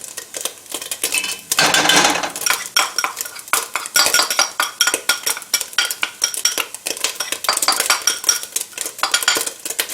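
Ingredients dropped into a hot pan for smoky collards with chickpeas spit and pop in a dense, crackling burst, with sharp pops scattered throughout and the clatter of a utensil against the pan. Nobody talks.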